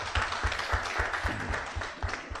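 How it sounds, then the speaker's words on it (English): Attendees at a bar association open debate for judicial service commission nominees clap in a brief, steady round of applause, fairly close and moderately loud. "Please give them a round of applause."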